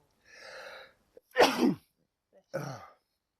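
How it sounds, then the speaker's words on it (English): A single loud sneeze, preceded by a soft breathy inhale and followed by a shorter sniff or exhale, close to the microphone. "I'm going to sneeze."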